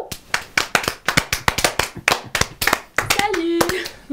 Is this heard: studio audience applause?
yes